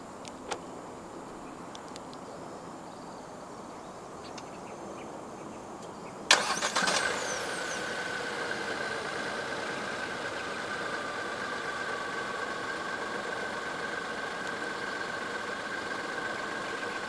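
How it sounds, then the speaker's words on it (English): A 2024 Proton X50 1.5T engine, started by remote start, cranks and catches with a sharp burst, then settles into a steady low idle that continues to the end. "The X50 in Malaysia does come standard with a remote engine start system."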